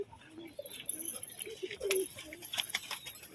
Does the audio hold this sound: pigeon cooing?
yes